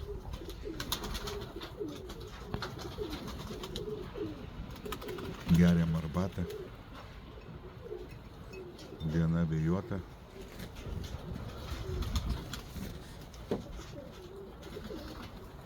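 Released homing pigeons coo on a windy day while someone talks nearby; two louder bursts of low cooing stand out over steady wind and chatter.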